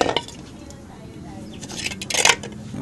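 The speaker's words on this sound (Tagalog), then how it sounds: "So ito yung takip ng kaldero, ng kaserola." Metal clinks and clatters as a casserole pot lid is handled, with a louder rattle near the end.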